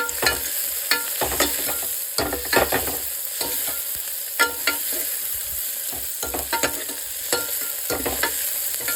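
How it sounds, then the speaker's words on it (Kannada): Crushed garlic frying with boiled potatoes in a pan for South Indian sambar, a steady close sizzle broken by repeated scraping stirs of a spoon against the pan. "ಸೊ ನಾನಿಲ್ಲಿ ಜಜ್ಜಿರೋ ಬೆಳ್ಳುಳ್ಳಿ ಹಾಕ್ತಾಯಿದ್ದೀನಿ ನೋಡಿ"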